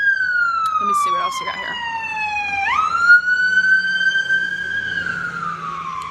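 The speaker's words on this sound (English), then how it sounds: "Oop, sirens are coming by." Emergency vehicle sirens pass close by on a street, wailing loudly with a falling and rising sweep and several overlapping tones, while a person talks over them.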